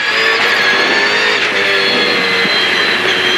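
A GRM Commodore race car screams through the turns at Hidden Valley, a loud, high, sustained engine note with brief dips at gear changes, heard close from onboard.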